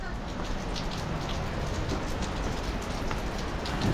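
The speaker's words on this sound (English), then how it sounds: "Just listen to the sound of water dripping from the rain, but also the river." Steady rain patters and drips all around on a riverside in Mostar, Bosnia and Herzegovina, blending with a constant rushing wash of the flowing river, close and evenly loud without pause.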